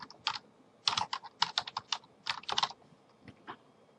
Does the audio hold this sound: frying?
no